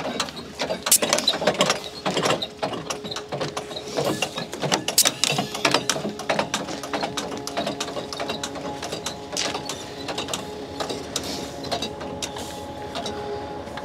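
A strap locking mechanism is pulled tight and ratchets with a long run of rapid mechanical clicks and clatters up close, steady for about fourteen seconds.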